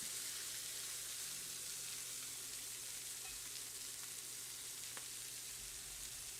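Pork chops searing in a very hot pan give off a continuous, even sizzle and crackle, close up and steady throughout, with a low hum beneath.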